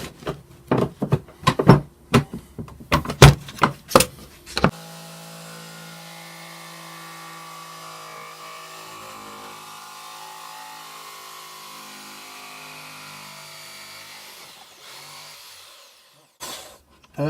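A Ryobi 500W jigsaw cuts a squiggly line in wood, starting with several sharp stuttering bursts of sawing, then settling into a steadier, quieter buzz before a brief final rasp.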